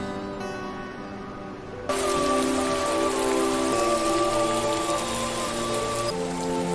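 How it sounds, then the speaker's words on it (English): Rain falls in a steady hiss and patter in a scene from the 2003 film Daredevil, growing noticeably louder and denser partway through, with faint tonal music underneath. "It's about to rain."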